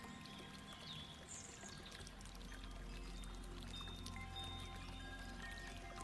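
Soft, steady trickling water flows quietly in the background, with faint bird chirps and wind chimes scattered over it.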